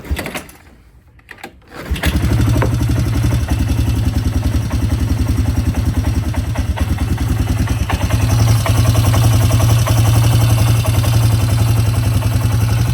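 A small pull-start engine on a cheap second-hand machine fires up after a brief pull and settles into a steady, loud running drone that holds for the rest of the clip.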